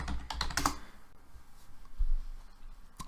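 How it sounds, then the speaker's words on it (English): Close, quick clatter of typing on a computer keyboard in uneven bursts, with a dense run of keystrokes at first, then scattered taps and pauses and no talking. "Terrible typing."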